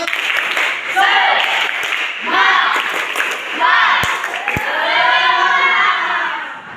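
Schoolchildren in a classroom perform a spirit clap routine, chanting loudly in rhythmic bursts with scattered claps and a couple of sharp smacks, several phrases in a row close by.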